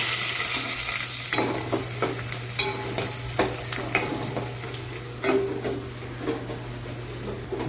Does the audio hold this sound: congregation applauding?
no